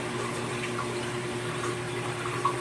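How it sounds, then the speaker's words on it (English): Water runs steadily through aquarium plumbing that feeds a 40-gallon breeder frag tank in a home fish room, a continuous close gurgling rush with no pauses or voices. "The other bit of water is coming back here and up into this plumbing which feeds the frag tank."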